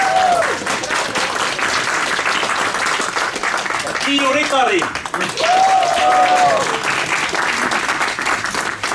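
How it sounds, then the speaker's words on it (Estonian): Audience applause fills a gathering of Nursipalu protesters, steady dense clapping throughout, loud and close, while someone speaks over it with amplified talk. "Teeme aplausi."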